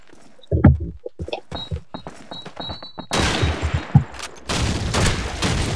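Bursts of Call of Duty 2 gunfire, scattered single shots at first, then dense rapid volleys of automatic fire with explosive impacts, loud and close.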